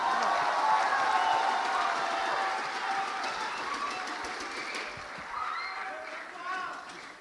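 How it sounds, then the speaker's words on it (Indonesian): Audience applause in a hall at the final of a Fahmil Qur'an boys' quiz contest at the 2020 national MTQ in West Sumatra, a steady fairly faint wash of clapping that slowly fades, with murmuring crowd noise beneath. "Sekali lagi kita berikan tepuk tangan bersama."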